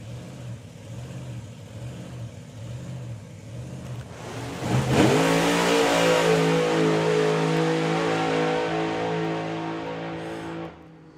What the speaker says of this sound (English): Andy Flav is going to be on his way with the Funny Car